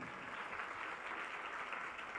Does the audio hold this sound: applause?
yes